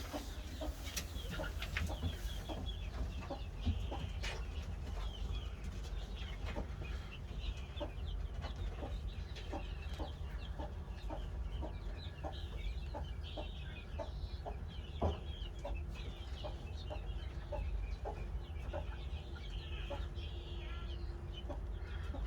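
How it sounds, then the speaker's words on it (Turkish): Clucking from a domestic hen sheltering guinea fowl chicks, with soft repeated calls and small peeps over a low constant rumble, fairly faint and continuous across the scene. "Burada şu ispencimiz var."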